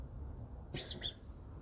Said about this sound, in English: my first time hearing a cat cough